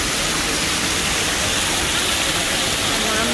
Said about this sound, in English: So we're right under the waterfall.